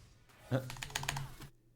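A computer keyboard clatters in a quick burst of rapid key presses lasting about a second, close and fairly quiet, during a League of Legends match.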